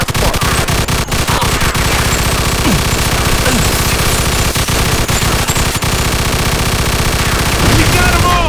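Gunfire in the Mafia II video game: loud, dense automatic weapon fire rattles almost without pause through the whole stretch, punctuated by sharper individual shots and booms.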